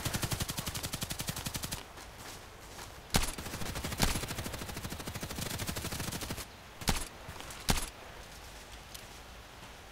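Gunfire in the shooter game Contract Wars: a rapid automatic burst runs for about two seconds, followed by several sharp single shots spaced apart over a steady background hum, with no voices.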